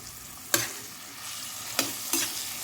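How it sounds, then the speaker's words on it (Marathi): Chopped tomato with masala sizzling in a pan for vegetable pulao, a soft continuous frying hiss broken by three sharp spatula clatters against the pan, with no voices. "याला मस्त फ्राय करून घेऊ आपण"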